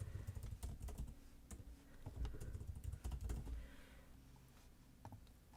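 Close, quiet tapping of a computer keyboard as a username and password are typed, irregular clusters of keystrokes with short pauses between them.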